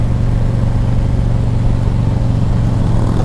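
Harley-Davidson motorcycles rolling alongside a moving vehicle make a steady, loud, low engine drone that stays constant throughout, without voices.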